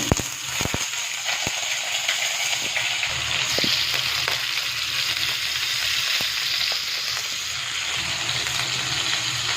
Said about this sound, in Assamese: প্ৰথমতে মই মাছকেইপিচ ফ্ৰাই কৰি ল'ম